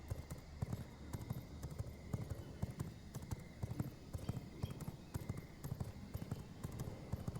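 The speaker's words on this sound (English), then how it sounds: "I'll just be thankful the horse is just that fast." Horse hooves gallop in a quick, steady clip-clop rhythm in the V Rising video game, the close, repeated beats running continuously throughout.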